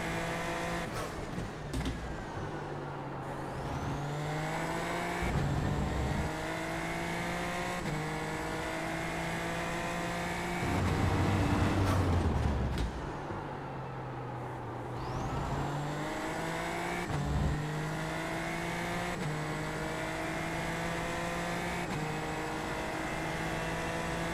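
A damaged race car in a video game drones on with a steady engine roar, climbing through revs, briefly dropping and rising again over long stretches, loud and continuous with no talking.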